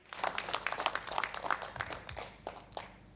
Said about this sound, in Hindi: एक बार अपने लिए, एक दूसरे के लिए जोरदार तालियाँ